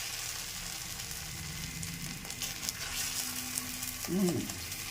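Tapioca adai dosa batter sizzling on a hot tawa, a soft continuous hiss close by with a few light scrapes and a brief murmur of a voice near the end.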